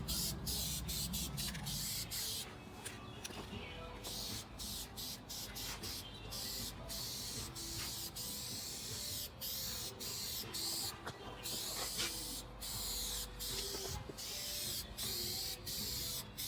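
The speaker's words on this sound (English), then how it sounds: "Make sure you spray it. You know, you don't have to saturate it." Spray paint hissing onto a vehicle for a patina finish, in repeated short bursts and longer passes with brief gaps, close and fairly loud over a faint room background.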